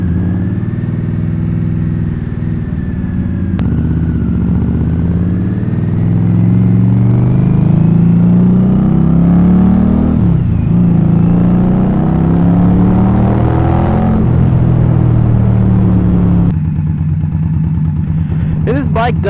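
Indian Scout cruiser motorcycle engine rumbling steadily while riding, with rising and falling revs as gears change, close and loud under wind noise.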